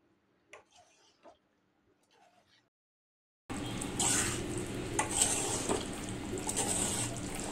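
Spoon stirring a pot of dry prawn and okra curry with fenugreek powder, a few faint scrapes at first, then a steady loud bubbling simmer with clinks of utensil against the pot.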